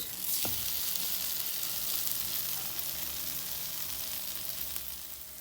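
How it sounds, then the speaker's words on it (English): French toast fries in a pan with a loud, even sizzle that holds steady throughout, a brief knock at the start, no voices. "Now let's take our toast and start making the French toast."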